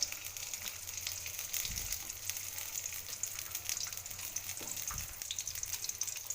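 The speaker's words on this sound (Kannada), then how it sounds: "ಎಲ್ಲ ಬದನೆಕಾಯಿ ಸ್ಲೈಸಸ್ ಎಲ್ಲ ಹಾಕ್ಕೊಂಡು ಶಾಲು ಫ್ರೈ ಮಾಡಬೇಕು" Eggplant slices shallow frying in oil in a pan, giving a steady, moderately quiet crackling sizzle throughout with a couple of soft low thumps.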